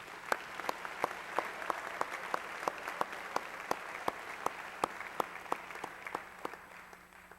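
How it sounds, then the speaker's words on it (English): An audience claps at a high school senior awards ceremony, a steady round of applause with a few distinct loud claps punctuating it at regular intervals before it tapers off at the end. "If you could give them a round of applause, please."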